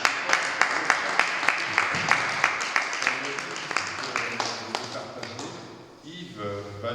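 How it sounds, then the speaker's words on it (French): Audience applause at an award ceremony for a collective photo exhibition, a steady run of sharp, regular claps from a small crowd that fades and gives way to a voice near the end. "On applaudit."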